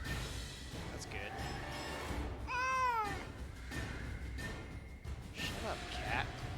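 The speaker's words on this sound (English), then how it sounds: "Shut up, cat." A pet cat in the MTG Arena card game meows a few times, rising and falling cries over steady game background sound and clicks.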